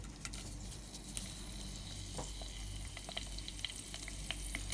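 Curry leaves fry in hot oil in a pan for a Sri Lankan shark fish black curry, giving a steady close sizzle with faint crackles and pops throughout and no talking.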